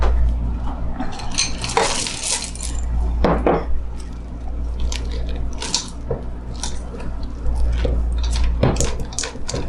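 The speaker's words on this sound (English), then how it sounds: "we're going to add in the chocolate chips" Chocolate chips mixed into cream cheese cookie dough in a bowl, with repeated scraping, clinking and thudding of a utensil against the bowl, fairly loud and close, continuing throughout.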